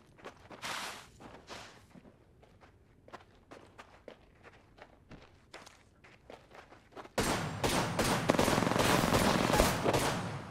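Wingman pistol shots in a 1v1 video game match: quick sharp footsteps and scattered shots at first, then a loud, dense volley of gunfire that keeps going for the last few seconds.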